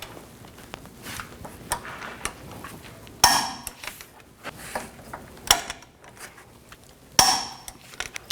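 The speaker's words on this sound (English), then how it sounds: "And torque these bolts to 221 foot-pounds" A torque wrench tightens bolts on the lower control arm of a 2007–2014 GMC Sierra 3500 HD, with three sharp metallic clicks standing out over softer ratcheting and handling noises.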